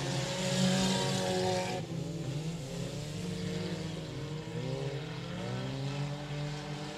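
4-cylinder class race cars racing at Texarkana 67 Speedway, engines roaring with rising and falling pitch sweeps as cars pass and accelerate, several overlapping, at moderate distance and without talk.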